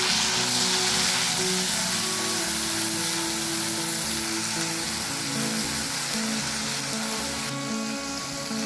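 Onion paste frying in hot oil with mustard seeds and dried chili gives a loud, steady, close sizzle that hisses on without a break and no talking.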